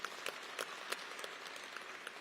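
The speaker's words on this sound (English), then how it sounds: "Give us another warm round of applause" A crowd at a university event applauds, a steady, fairly quiet wash of clapping with a few sharper individual claps standing out throughout.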